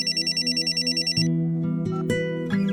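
An electronic telephone rings in rapid trilling bursts for about a second, then gives way to sharp, dramatic music chords.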